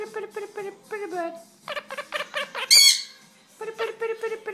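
A pet bird gives nearby, voice-like chattering calls, broken by one sharp, loud squawk partway through.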